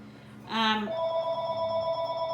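A phone rings with a short burst of electronic tones, then a steady sustained ringtone continues, fairly loud over a quiet room.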